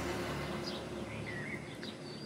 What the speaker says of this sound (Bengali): আর এই তো এইদিকে পাখির ডাকগুলো আমার কাছে অনেক ভালো লাগতেছে।